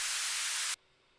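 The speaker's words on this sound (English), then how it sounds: "For example, our snare right now sounds like this." A synthesized snare drum built with a JavaScript synth gives a single loud burst of harsh white-noise hiss. It holds steady for under a second, then cuts off abruptly, with no other sound around it.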